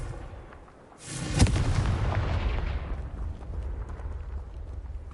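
A Confringo explosion spell cast in the video game Hogwarts Legacy bursts after about a second into a loud, booming blast that rumbles and slowly fades over the following seconds.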